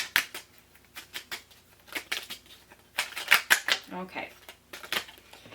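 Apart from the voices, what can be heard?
shuffling tarot cards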